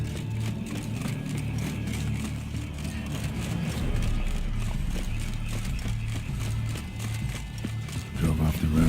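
Horse hooves galloping in The Witcher 3: Blood and Wine, a rapid, steady clip-clop of hoofbeats over a low rumbling ambient bed, close and continuous throughout with no talk on top.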